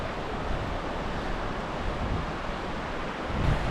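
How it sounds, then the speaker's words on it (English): A wide-open river roars steadily nearby in a winter backcountry setting, a constant broadband rush of water with no voices over it. "This is the river that completely destroyed that bridge."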